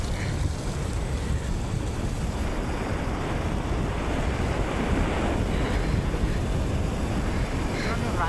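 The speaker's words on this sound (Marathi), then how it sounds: "बघ कसा पाणी येतो." Ulhas river floodwater pours across the road near the Rayte bridge on the Kalyan–Murbad route, a constant loud roar mixed with heavy wind buffeting the microphone.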